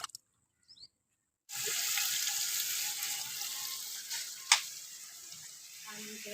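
A tap opened to fetch water into buckets at home, with a steady hissing gush of running water for several seconds after a short quiet start, one brief louder splash near the end.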